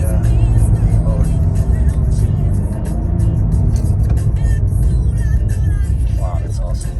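Cadillac Blackwing in V mode roars loudly up close, a dense, sustained engine rumble with rising intensity, while people talk over it throughout.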